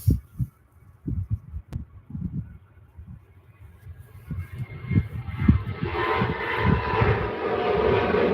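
An airliner takes off at Manchester Airport, its jet engine roar building steadily from faint to loud and broad as the aircraft accelerates, with low thumping wind buffeting the microphone throughout.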